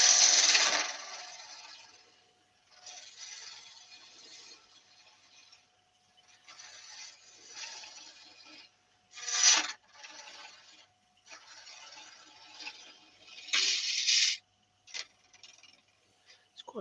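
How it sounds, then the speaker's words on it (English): Hard ebony wood turns on a lathe, giving intermittent scraping and rubbing bursts of a tool on the spinning piece. Louder cuts alternate with quieter stretches and pauses, all close and without speech. "It's quite nice to turn this ebony"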